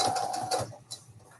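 Domestic sewing machine stitching through a thick folded-over layer of fabric while sewing a Christmas advent calendar, giving a quick strained mechanical chatter for about half a second, then fading to faint clicks.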